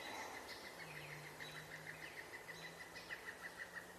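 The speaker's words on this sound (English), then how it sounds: "And that sounds like a pileated woodpecker if I'm not mistaken." Pileated woodpecker calling in a quiet woodland, a faint series of rapid repeated high notes in short bursts, mixed with distant insect buzz and other birds, no talking.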